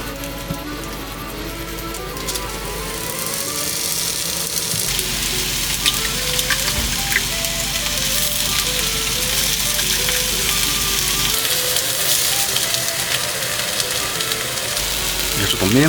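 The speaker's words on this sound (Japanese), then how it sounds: "じゃあこれフライパンでアルミホイル引いて焼いていきます" Slices of high-grade ham frying on aluminium foil in a frying pan, giving a steady close sizzle throughout with light crackle.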